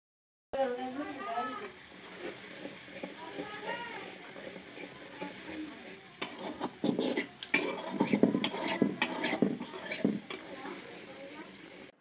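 Milk cream cooking down into homemade ghee, stirred in a pan: scraping and clinking of a spoon against metal, growing busier and louder toward the end, with a voice talking over the first part.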